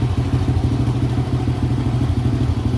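A Honda Astrea Star motorcycle that has sat unused for three days fires up and runs with a loud, steady, close-up engine chug and rapid rhythmic thumping and clatter throughout.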